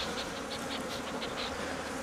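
Honeybees swarm around an opened, feisty Flow Hive during a vertical split, a dense continuous buzzing close by with individual bees droning past, no voices.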